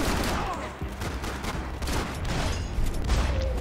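Sustained close-range gunfire in Max Payne 3 forms a dense, loud crackle of overlapping automatic shots that keeps going for several seconds.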